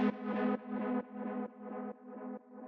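A melodic, atmospheric techno synth lead plays a steady run of bright, buzzy sustained notes in a regular rhythm, each fading slightly, heard alone at moderate volume.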